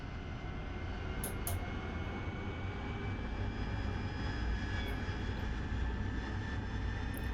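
AV-8B Harrier jet engine in the DCS flight simulator spooling up aboard a ship deck, a steady broadband roar with a high whine holding at a constant moderate level throughout.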